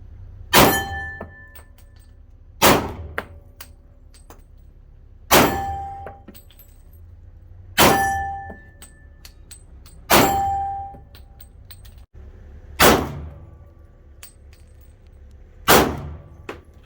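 Seven sharp, ringing clangs of bullets striking steel targets, each following a shot from a SIG P320 pistol with an aluminum grip frame, full-size slide and barrel, firing .40 S&W, spaced about two to three seconds apart outdoors.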